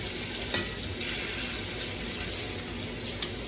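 A thick Berkshire pork chop fries in a hot pan, giving a steady, close, loud sizzle and crackle of spitting fat with a couple of sharp pops, without any talking.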